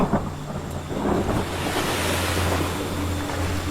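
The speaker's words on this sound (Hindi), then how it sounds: "उसके घुटनों तक पानी आया और लहर वापस जाते हुए पानी वो वापस ले गई" Ocean waves wash onto a shore in a loud, continuous surge of surf with wind noise. No voices are heard.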